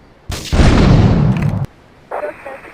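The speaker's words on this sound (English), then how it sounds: "investigate reports of gunfire and explosions" Gunfire and explosions in Grand Theft Auto III: a sudden loud blast with a booming, crackling roar that lasts over a second, cuts off sharply, then a quieter burst of shots follows.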